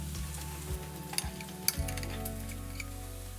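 Walnut sauce is stirred into boiled red beans in a pot, producing close, wet scraping and a soft bubbling hiss with a few sharper clicks of the utensil against the pot.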